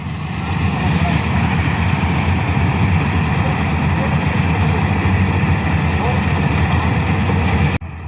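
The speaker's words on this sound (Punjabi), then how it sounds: "ਲਿਆਨੇ ਟਰੈਕਟਰ ਹੁਣ ਤੇ ਕੱਢਨੇ ਆ ਟਰਾਲੀ ਨੂੰ" A heavy diesel tractor engine drones loudly and steadily at close range while pulling out a stuck trolley, holding a constant low rumble before it suddenly cuts off near the end.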